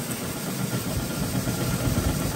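A small power sprayer engine with a loose pump runs steadily up close, a dense low droning rumble with no talk over it.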